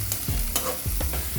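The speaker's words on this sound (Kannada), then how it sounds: "ಈಗ ಉಳ್ಳಾಗಡ್ಡಿ ಹಾಕ್ತೀನಿ ರೀ. ಯಾಕಂದ್ರೆ ಫ್ರೈ ಮಾಡ್ಕೊರಿ ಎಲ್ಲ ಮಿಕ್ಸ್" Chopped onions stirred and fried in a pan for North Karnataka-style girmit, with a soft continuous sizzle broken by several sharp scraping strokes of a spoon against the pan, close and fairly clear.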